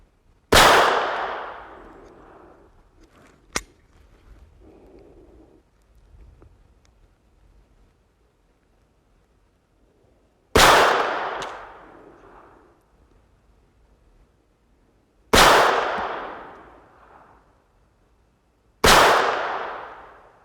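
Four sharp gunshots from a Phoenix Arms HP25 pistol ring out at an outdoor range, each a loud crack with a short fading tail. A long pause follows the first shot, then three more come at intervals of several seconds.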